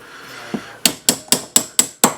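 A punch hammered against a pin in a Ruger-5.7 pistol gives six sharp metallic taps in a steady, quickening rhythm, close and loud, after one softer knock.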